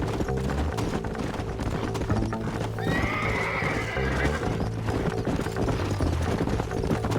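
Horses in Red Dead Redemption gallop with steady clip-clop hoofbeats, close and continuous, and one horse gives a high whinny midway through, all over a low game music bed.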